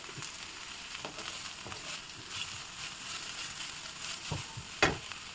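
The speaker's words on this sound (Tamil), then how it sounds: "கேரட்டையும் பட்டாணியும் இப்போ போட்டுக்கணும் சேர்த்து" Onion, green chilli, carrot and peas sautéing in a pan for ragi sevai, giving a soft continuous sizzle with occasional scrapes and stirring clicks from a utensil, close by and with no speech.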